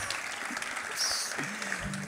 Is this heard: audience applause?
yes